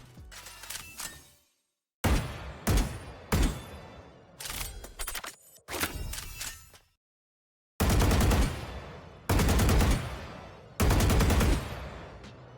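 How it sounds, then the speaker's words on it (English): Aeris Vandal skin firing in Valorant: several loud bursts of rapid automatic gunfire with a bright, ringing magical tone, separated by short silences, played alone without talk. "Take a listen to the shooting sounds for the Aeris Vandal."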